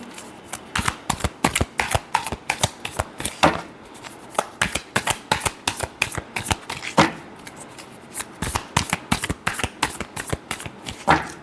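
Tarot cards being shuffled up close, a fast run of crisp riffling and flapping bursts repeating steadily throughout, with brief pauses between shuffles and no talking.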